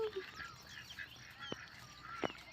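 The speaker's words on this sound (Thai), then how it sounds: "เป็ดไก่ก็ร้อง" Ducks and chickens calling at sunrise on a rural morning, with a few sharp honking quacks and short squawks at a distance over quiet background.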